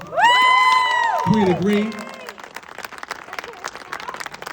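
An audience at a community event honoring local advocates claps and cheers, opening with loud voiced whoops and shouts that settle into steady scattered applause, with a person speaking over the start.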